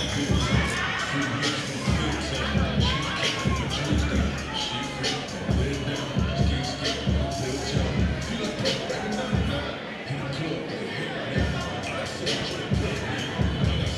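Large crowd filling a sold-out, standing-room-only stadium at a boxing event, a steady dense roar of murmuring voices with scattered shouts and cheers throughout, loud and continuous.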